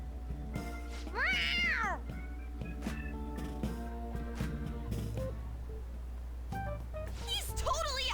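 A cat meows in the video game Persona 5 Royal, with a couple of clear, bending meows standing out over a steady game music backdrop and a low hum.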